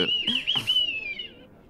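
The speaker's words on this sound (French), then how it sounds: "Dis-moi, ce sifflet, c'est un nouveau?" A single whistle gives a sustained, slightly wavering high tone lasting about a second, with a couple of short soft bursts near the start, and then fades out.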